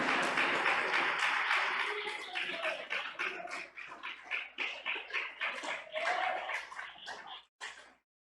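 A church congregation claps and cheers together, loud and dense at first, then thinning into uneven bursts of hand-claps before stopping abruptly.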